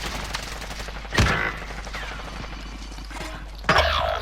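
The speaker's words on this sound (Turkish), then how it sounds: "Aa sağdan biri sıktı onu." Gunfire in the Warzone video game, with M4A1 rifle fire, sharp bursts of shots standing out twice over a steady, dense bed of battle noise, loud and close with no talk.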